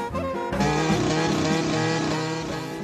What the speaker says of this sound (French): Voici la nouvelle procédure pour démarrer la moto.